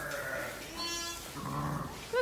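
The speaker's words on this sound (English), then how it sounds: "So these are the numbers of the Leicester Long Wool sheep." Leicester Longwool sheep bleat at close range on a farm, with a couple of short, wavering calls and a quick sharp bleat near the end.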